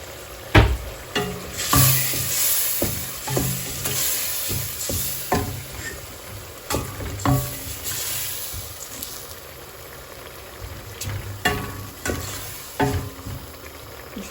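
Nutmeg-seasoned sauce for ngolo (catfish) simmering and sizzling in a pan, with repeated scraping and stirring clatters of a utensil against the pan at an uneven rhythm, close and fairly loud throughout.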